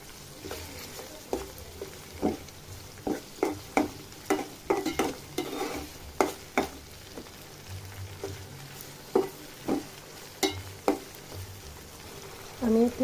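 Bitter gourd frying in a pan with salt and green chillies, a steady close sizzle under repeated scraping stirs that come in an uneven rhythm of sharp clicks, with no voices.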